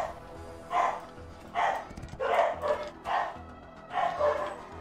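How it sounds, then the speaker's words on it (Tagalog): A noisy dog barks repeatedly in the background of an indoor gaming livestream, five or six rhythmic bursts of medium loudness spaced about a second apart, with no talk over them. "Ingay na mong aso, sorry ah."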